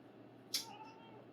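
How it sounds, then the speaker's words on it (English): A cat gives a single short, fairly loud meow partway through, set against a quiet indoor background with a faint hum. "Oh yeah, cat's excited."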